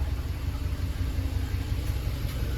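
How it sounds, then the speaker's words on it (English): A 185,000-mile BMW 650i Gran Coupe with the N63TU V8 runs at slightly raised revs, giving a steady, close, low rumbling drone with no talk over it. "I probably should raise the RPMs just a little bit."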